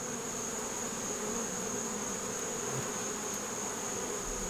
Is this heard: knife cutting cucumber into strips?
no